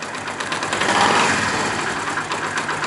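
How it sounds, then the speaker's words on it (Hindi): A Honda CD 70 motorcycle engine running steadily at close range, a continuous buzzing idle that rises slightly about a second in and then settles. "ये देखिए, ये बाइक स्टार्ट है"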